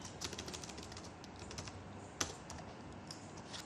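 Rapid, irregular typing on a computer keyboard while composing blog content about an annual sports function, the clicks close and fairly quiet, with one sharper key strike standing out near the end.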